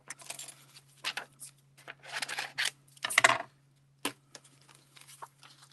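Scissors snip out a paper die-cut piece for a handmade card, a close, quiet series of irregular crisp cuts and rustles separated by short pauses, with a faint steady hum beneath.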